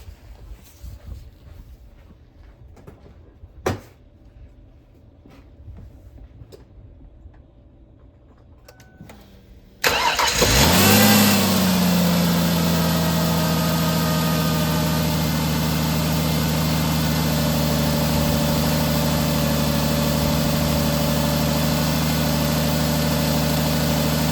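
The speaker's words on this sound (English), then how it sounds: "we're ready to start up the car, see if it runs" A car engine cranks and then catches about ten seconds in, after a quiet stretch with a few faint clicks. It revs briefly and settles into a steady, loud idle with a constant low drone.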